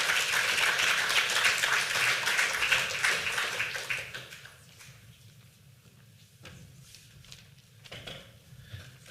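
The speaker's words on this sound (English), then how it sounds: "I want to give each of you a round of applause" A large audience applauds, a dense wash of clapping that fades after a few seconds, leaving scattered claps and quiet room noise.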